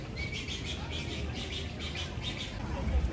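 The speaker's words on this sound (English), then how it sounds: "The birds are acting all kinds of crazy." Large white birds squawking and chirping in a noisy argument at EPCOT's Flower & Garden Festival, repeated calls over steady crowd murmur and outdoor background noise.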